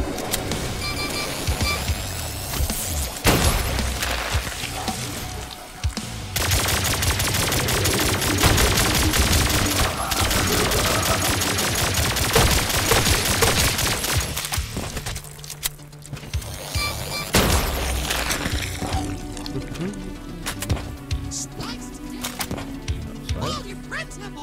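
Dense video-game gunfire fills a mini boss fight in the shooter Turbo Overkill, with rapid bursts and heavy blasts running almost nonstop over layered explosions and effects, and a player's voice occasionally heard beneath.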